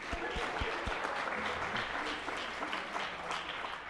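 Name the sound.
audience applause at awards assembly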